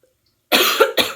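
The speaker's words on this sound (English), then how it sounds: "Excuse the coughing, by the way." After a brief silence, a person coughs twice in quick succession, close and fairly loud.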